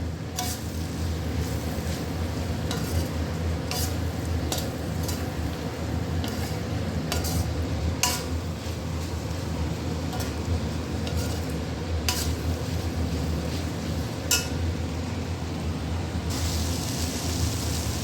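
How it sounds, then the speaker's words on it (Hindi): Masala for bori sabzi fries in a pan with a low steady sizzle, while a spoon scrapes and clinks against the metal at irregular intervals under a constant background hum. "अब मसाला डाल के इसको करीब 1-2 मिनट तक अच्छे से भूनेंगे।"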